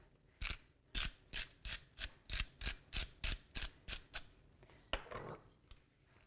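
A pepper mill grinds black pepper in a home kitchen while chicken liver parfait is being made. About a dozen close, crunchy grinding twists come in an even rhythm, then a short rougher burst.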